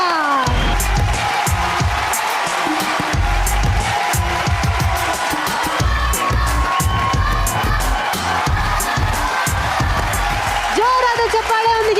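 A game-show studio audience claps and cheers loudly to welcome children paired with their parents, with whoops and shouts over continuous applause while voices talk in the crowd.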